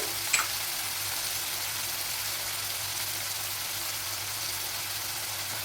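Onions and tomatoes sautéing in a pan, giving a steady, soft broadband sizzle that holds evenly throughout, with one brief tap near the start and no voices.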